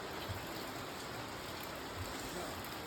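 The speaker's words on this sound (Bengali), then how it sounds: "ভীষণ লেভেলের বৃষ্টি হচ্ছে" Heavy rain in the hills of Sikkim, a steady even hiss of downpour with a low rumble beneath, constant and fairly loud with no voices.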